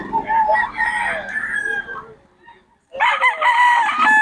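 Roosters crow among gamefowl at the Bocaue market, with one long, loud crow followed by a short pause and then a second strong crow close by.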